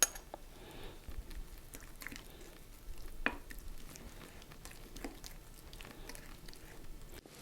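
Garlic sizzles softly in a pan for an Anyang-style sundae gopchang stir-fry. A steady low crackle runs throughout, with scattered small clicks and one sharper tap partway through.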